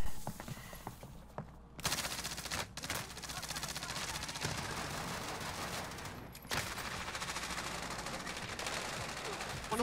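Gunfire in the Warzone video game, rapid bursts of automatic fire and single shots through most of the stretch, with players chatting and shouting over the shooting.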